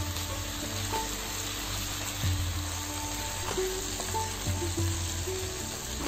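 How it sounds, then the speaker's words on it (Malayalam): Vegetables for sambar, including brinjal, sizzle in a pan while being stirred, a low steady frying hiss with occasional soft scrapes and taps, fairly quiet and without talk. "അത് എന്നിട്ട് നന്നായിട്ടൊന്ന് ഇളക്കി കൊടുക്കുക"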